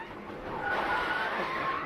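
A race car skids in a single-car crash at the 2023 General Tire 200, a broad roaring rush of engine and tire noise, close and loud, with thin squeals rising over it as it swells.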